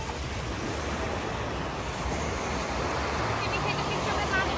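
Ocean waves wash onto a beach in a steady, close roar mixed with wind buffeting the microphone, forming a continuous wash of noise with faint voices underneath.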